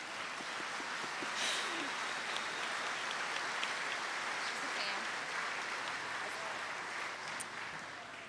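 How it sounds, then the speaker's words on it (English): Steady applause fills a dairy cattle show ring at World Dairy Expo for a 15-year-old exhibitor of a Brown Swiss dry cow, a dense, even wash of clapping that continues for several seconds. "give her a round of applause"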